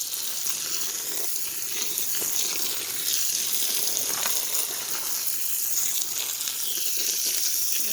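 Water pours and splashes steadily into a dry Quikrete concrete mix, a continuous hissing, trickling wash that runs close and fairly loud throughout.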